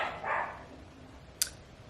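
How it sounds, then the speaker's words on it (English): A dog barks once or twice in the distance, a brief muffled yip followed by a sharp short click-like sound, heard faintly in an otherwise quiet indoor room with no talking. "I don't know why they're barking"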